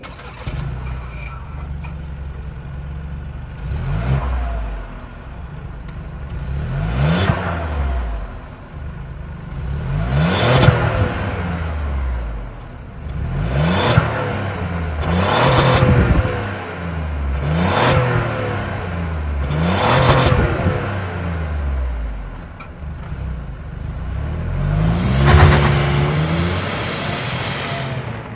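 A Ford 1.5-liter turbocharged three-cylinder engine in a 2023 Bronco Sport revving repeatedly, rising and falling in several bursts over a steady idle, close and loud with no talking.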